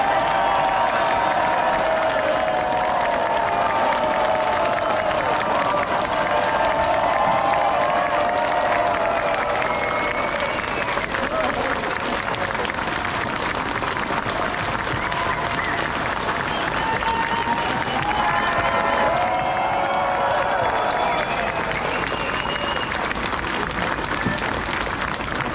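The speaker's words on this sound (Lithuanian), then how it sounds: "3, 2, 1, plojam šiam orkestrui." An outdoor festival audience by the sea in Klaipėda gives sustained, dense applause with scattered cheers for a military marine band, the clapping steady and loud throughout with faint voices mixed in.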